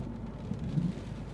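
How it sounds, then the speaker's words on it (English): Steady rain pours down outside a farm home on a wet winter evening, a dense unbroken wash of noise with a deep rumble beneath, no voices. "we are home and it's piddling down with rain again."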